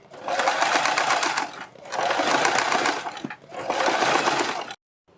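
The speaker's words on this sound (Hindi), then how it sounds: "बीच में सिलाई लगाने के बाद हम बुकरम के बिल्कुल बराबर में पूरे गले के ऊपर सिलाई लगाएंगे।" A sewing machine stitches around a garment neckline along stiff buckram, running in three loud, close bursts of rapid needle chatter separated by short pauses, then falling silent at the end.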